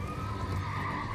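A cavalry horse neighs in Elden Ring, a drawn-out whinny held for about a second over a dense, noisy game backdrop.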